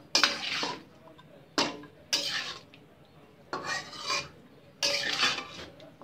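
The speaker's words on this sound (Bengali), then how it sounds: "খুব ভালোভাবে মাংসের সাথে মশলাটা নেড়ে মিশিয়ে নিব।" A spoon stirs beef with a ready-made haleem spice mix in a pot, giving five or six loud, rasping scrapes in bursts separated by short pauses.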